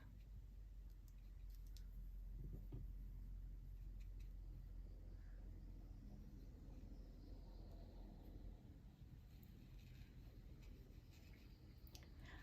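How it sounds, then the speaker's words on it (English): Faint, continuous low hiss and rumble of cars on a wet road swishes by in the distance, with a few small clicks near the microphone and no talking. "I don't know if you can hear all the cars going by at the moment."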